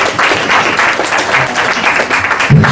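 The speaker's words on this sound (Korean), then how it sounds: "그럼 박수 한번 해주시고요." A church congregation at Sunday service gives a short burst of dense, loud applause that fills the hall.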